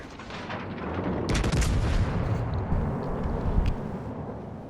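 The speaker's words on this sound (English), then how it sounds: "it looks like we missed all of those shots from our second salvo there" Heavy battleship main-gun salvo in World of Warships Legends, a dense rumbling boom that swells after the first second and rolls on for several seconds with low crackling, loud and close, no talk.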